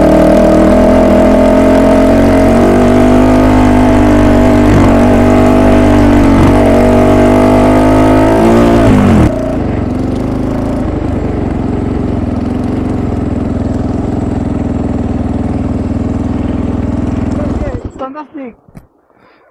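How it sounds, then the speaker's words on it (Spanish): A Fantic 450 Rally motorcycle engine with a lost exhaust manifold bolt runs loud and rough, drops to a lower, quieter note partway through, then cuts out near the end, with talking over it. "he perdido un tornillo, el colector. Va haciendo un ruido a cacharro"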